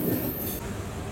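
A passenger train rolls along after pulling out of Kadiyam railway station, a steady rumble and clatter heard from on board, with a high squeal that cuts off partway through.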